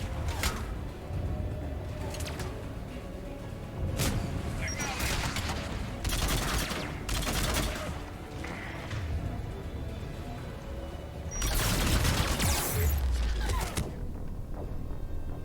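Enemy gunfire in the video game Mass Effect 3, loud bursts of rapid shots and explosive thuds coming in several volleys over steady game noise, with a player talking intermittently.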